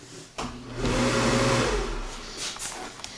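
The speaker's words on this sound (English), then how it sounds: "Turn on some lights in here with an exhaust fan." A bathroom exhaust fan switches on with a click and settles into a steady whirring hum. The hum swells briefly, then fades into a quieter background as a few faint knocks follow.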